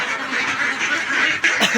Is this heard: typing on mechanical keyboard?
no